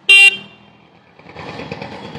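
A short, loud electronic horn beep from an Ultraviolette X-47 electric motorcycle, followed by a low steady hum close by.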